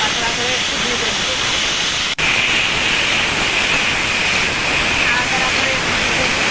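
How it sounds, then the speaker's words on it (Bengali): Radish with salt and green chillies frying in a pan, a loud, steady sizzle and hiss that runs throughout, with one brief break near the start. "নাড়াচাড়া করে একটু ভেজে নেবো।"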